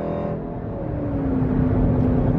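Cadillac with a loud bass audio system, a steady low rumble and booming bass with a sustained tone, close and continuous for a couple of seconds.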